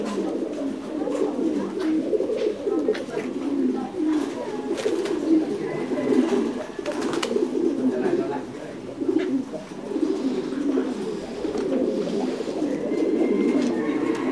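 Thai Titan meat pigeons brooding on their nests keep up a continuous low, throaty cooing, with many birds murmuring close by in an overlapping rolling chorus and occasional rustling.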